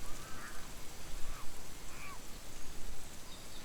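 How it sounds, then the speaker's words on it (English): Steady spring rain falling in a Chinese forest where Tibetan macaques live, a dense continuous hiss with a few faint bird calls poking through. "The only thing interrupting their activities is the unrelenting spring rain."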